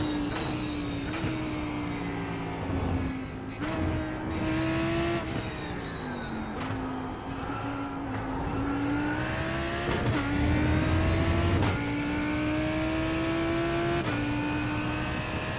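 Race cars including a BMW, Ferrari and Chevy racing in the iRacing sim at Monza or Le Mans, a loud continuous engine drone that rises and falls in pitch through gear shifts, with no talking.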